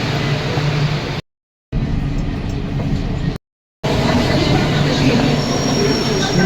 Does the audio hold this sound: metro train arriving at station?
yes